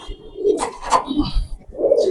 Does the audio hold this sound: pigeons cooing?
yes